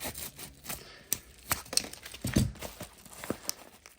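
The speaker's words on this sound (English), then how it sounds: "let's get this bubble mailer open." Scissors snip and crinkle through a padded bubble mailer in short, irregular cuts and rustles, close and fairly quiet, with no voices.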